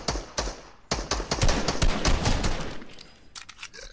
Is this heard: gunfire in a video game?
yes